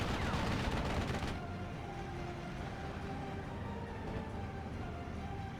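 An artillery barrage in the World War II strategy game Steel Division 44 falls on an armored force. Dense, rumbling volleys of blasts and gunfire are loudest at the start, then ease into a steady distant battle rumble.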